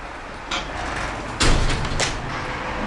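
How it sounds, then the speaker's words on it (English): An apartment building's entrance door in Budapest opens after the exit button is pressed, giving a soft mechanical click followed by a louder burst of door movement and a short rattle, close by, with a steady background hum and no talking. "Opens this door."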